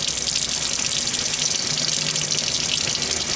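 Hot water running from an RV faucet in a steady, loud, bright hiss of flowing water into a sink, continuous and close with no voices.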